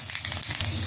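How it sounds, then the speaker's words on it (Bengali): Dry red chilli and black cumin seeds crackle and sizzle in hot oil for a Bengali radish-greens bhorta tempering, a short steady hiss close by with no voice. "কিছুটা কালো জিরা ফোড়ন দিয়ে দিলাম"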